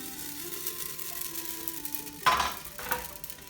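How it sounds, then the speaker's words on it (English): Amaranth grains popping in a very hot, dry pot with no oil, a steady light sizzle under faint background tones, then two sharper crackling bursts near the end. "gently shake it while it's popping to keep it from burning and sticking to the bottom"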